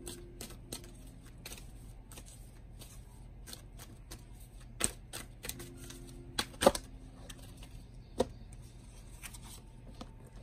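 Tarot cards are shuffled quietly during a card reading, giving soft scattered papery clicks and riffles with a few sharper snaps near the middle, over a low, faint room hum.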